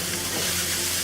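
Asparagus and oyster mushrooms with sesame oil, seasoning salt and black pepper are tossed in a hot wok, giving a loud, dense sizzle over one second with no pause.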